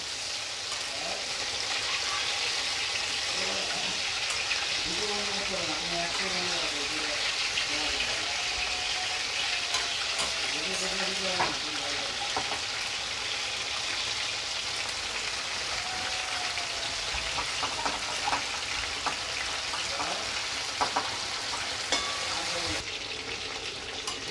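Bhetki fish pieces fry lightly in oil with a continuous crackling sizzle. Spatula scrapes and clatters come in as the pieces are flipped, and faint voices murmur now and then.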